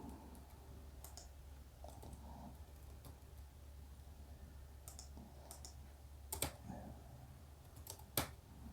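Keys clicking on a computer keyboard while accounting entries are typed in, sparse and faint taps in short irregular bursts over a quiet room hum, without talk.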